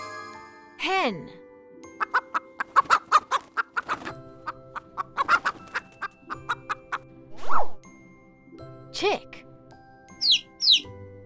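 Hen clucking in short repeated bursts, with tinkling chimes and a voice talking over parts of it.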